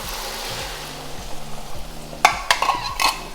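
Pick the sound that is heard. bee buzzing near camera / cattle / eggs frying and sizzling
eggs frying and sizzling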